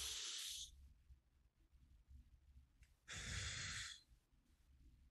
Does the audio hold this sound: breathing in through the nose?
yes